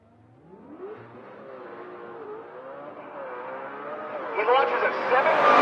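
A drag racing car's engine rises in pitch and grows louder as it launches off the starting line, the roar building steadily with strong, revving harmonics.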